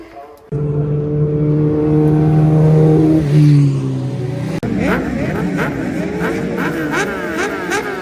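Racing motorcycles rev hard on the grid and then scream away at the start of a club race, a loud rising engine howl followed by a cut and a rapid series of gear-change revs as the pack accelerates.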